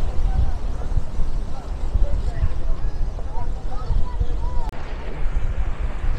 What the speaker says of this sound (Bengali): মনে হচ্ছে যেন সাগর আজকে উত্তাল হয়ে এক অগ্নিমূর্তি ধারণ করেছে।